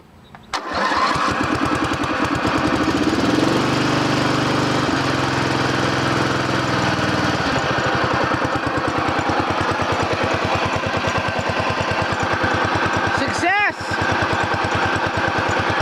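A Toro TimeCutter riding mower with a newly replaced faulty ignition coil cranks and catches on choke, then settles into a steady, loud running rattle for the rest of the clip, with a brief dip near the end.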